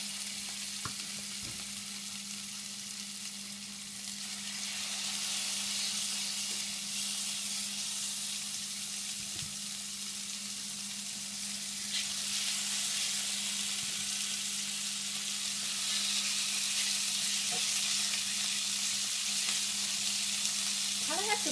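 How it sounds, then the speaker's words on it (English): Venison steak sizzles in hot oil in a black cast-iron skillet, a continuous bright frying hiss that swells louder partway through, with a steady low hum underneath and occasional faint clinks. "But you're going to hear it sizzle."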